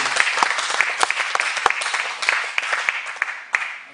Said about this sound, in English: Shall we clap our hands to the Lord, mga kapatid?